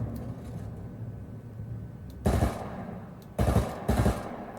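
Three loud bursts of rapid gunfire from bots in an unranked video game match, the first standing alone and the next two close together, over a low background rumble.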